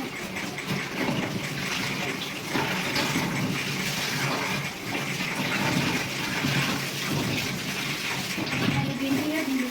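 Okra is rinsed under a running kitchen tap, a steady loud gush of water splashing continuously with slight shifts as the vegetables are handled, and no speech.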